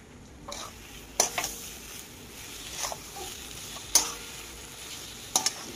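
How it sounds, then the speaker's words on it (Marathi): Mashed sweet potato fries in ghee with sugar while a spoon stirs it in a pan, making a soft steady sizzle broken by a few sharp scrapes and clinks against the metal. "रताळे तुपात भाजून घेत असताना त्याच्यामध्ये आपल्या टेस्टनुसार साखरेची पिठी घालून घ्यायची आणि परतून घ्यायची"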